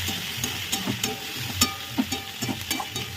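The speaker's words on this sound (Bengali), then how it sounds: "দিয়ে একটু ভালো করে আবার নেড়ে নেবো।" Chilli, tomato and onion fry in a pan while a spatula stirs them, giving a steady sizzle broken by repeated scraping strokes at close range, with no talking.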